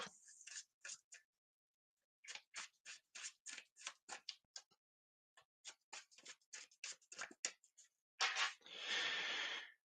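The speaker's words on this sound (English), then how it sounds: "Let's shuffle up." Playing cards being shuffled by hand, quick crisp riffles and taps in short bursts separated by pauses, ending with a longer rustling riffle; close and quiet, no talk.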